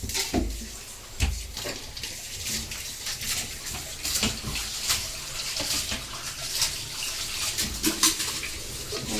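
Water runs and splashes while small fish such as tengra are rinsed, with irregular gushes, drips and handling noises close by over several seconds.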